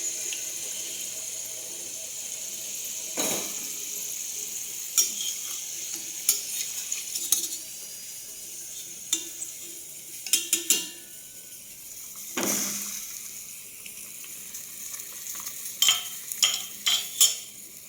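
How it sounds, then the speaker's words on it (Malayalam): A browned fried snack is stirred into jaggery syrup in a pan, with wet scraping and clattering strokes in bursts over a soft continuous hiss, close and fairly quiet. "ഇതിനെ എടുത്ത് നേരെ നമുക്ക് ശർക്കര പാനിയിലോട്ട് ഇടാം."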